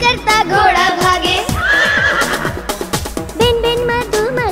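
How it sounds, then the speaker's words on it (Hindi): A horse gives a loud, quavering whinny over lively music in a Hindi children's nursery rhyme, with clip-clopping hooves beneath. "हिन हिन करता घोड़ा भागे"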